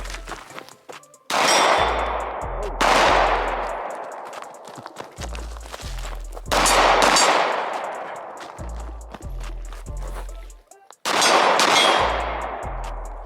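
Glock 19 pistol fired at an outdoor range: three loud, sharp shots spaced several seconds apart, each with a quick follow-up crack or metallic clang, and quieter shuffling between them.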